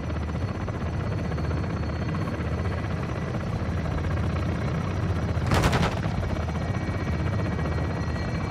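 Helicopter attack in Call of Duty: Modern Warfare II campaign: a loud, steady rotor drone throughout, with bursts of gunfire and one sharp blast partway through.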